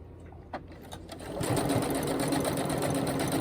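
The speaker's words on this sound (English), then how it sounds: "a couple of back stitches just to make sure that it's secure" An electric sewing machine back-stitches ribbon onto webbing for a key fob, a few quiet clicks then a steady close whirring run of stitching.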